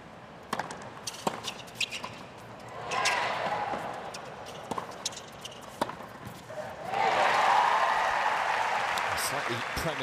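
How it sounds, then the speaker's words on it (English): At the 2023 US Open doubles quarterfinal, Hsieh/Wang against Pegula/Gauff, sharp racket and ball hits ring out before the stadium crowd bursts into a loud, sustained roar, with a commentator talking throughout. "Premature roar from the crowd."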